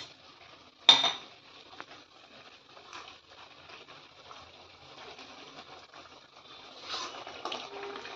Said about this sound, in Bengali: ঝোলটা ফুটে উঠেছে, এবার মাছগুলো দিয়ে দিচ্ছি।